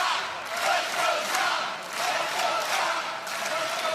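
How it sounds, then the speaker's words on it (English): A large crowd at a professional pickleball match roars and cheers steadily, loud and sustained, rising and falling in waves of shouting. "Crowd making their voices heard."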